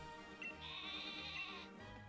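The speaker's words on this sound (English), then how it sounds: "this sheep is normal type" The normal-type sheep Pokémon in Pokémon Sword gives a short bleating cry, a single wavering electronic baa about two seconds long with no talking over it.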